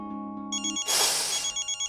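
A mobile phone ringtone plays for an incoming call, a melodic electronic tone that shifts into a brighter, louder burst of repeating chimes, close and alone.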